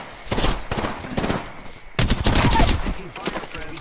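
Rapid bursts of gunfire in a shooter video game, loud and close, with a sharp break near the middle followed by denser firing, while a voice speaks over the shooting.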